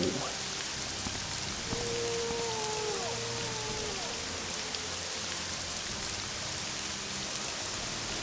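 Steady rain hiss in the video game Morrowind, a constant even wash with a few faint tonal game sounds drifting over it, close and continuous throughout.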